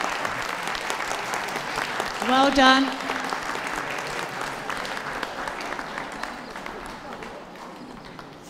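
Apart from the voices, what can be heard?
applause at dog show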